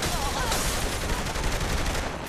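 Sustained, dense gunfire from Saints Row: The Third, a loud continuous barrage of rapid shots with no pauses across the whole stretch.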